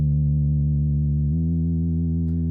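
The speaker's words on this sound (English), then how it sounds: "I want a sustained bass note" A synthesizer holds one steady, smooth low bass note for a horror soundtrack. Its tone shifts slightly partway through, and it sounds alone, with no voices.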